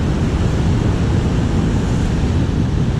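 Ocean swell on a west-facing beach churns and rushes constantly as water moves in several directions, with a loud, unbroken roar of surf and wind buffeting the microphone.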